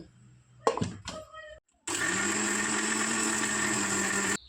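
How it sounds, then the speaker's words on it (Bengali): Cold coffee ingredients, including chocolate and powdered milk, are whirred in a blender that starts with a loud, steady high-pitched roar after a few brief clunks and a pause, running close by for the rest of the moment. "তো এখন এই সব কিছুকে ভালো করে ব্লেন্ড করে নেব।"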